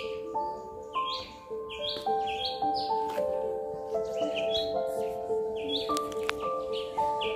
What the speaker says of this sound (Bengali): কি সুন্দর পাখি ডাকছে বন্ধুরা